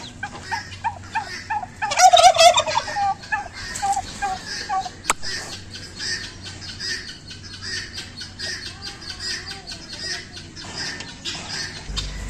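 A turkey at a Hyderabad poultry farm gobbles loudly and close by in a rapid, rattling burst, then lets out quieter calls among other fowl for the rest of the stretch.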